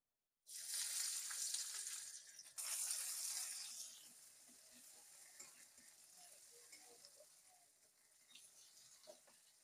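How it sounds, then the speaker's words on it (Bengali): Chopped onions drop into hot oil left from frying fish, bursting into a loud sudden sizzle that stays fierce for a few seconds and then settles to a softer, steady crackle. "এবারে মাছ ভাজা তেলের মধ্যে আমি পেঁয়াজ কুচি দিয়ে দেব।"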